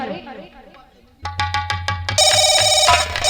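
A telephone rings with a rapid, repeated electronic bell pattern, loud and close, following a stretch of quieter tonal music.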